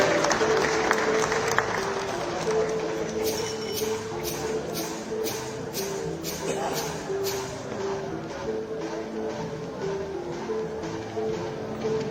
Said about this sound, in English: A round of applause for TSL Limited.